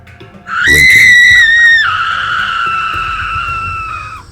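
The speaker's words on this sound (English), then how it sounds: "She screamed." A woman lets out a single loud, piercing scream that starts abruptly, holds high and shrill, then breaks into a slightly lower sustained wail for several seconds, close and alone.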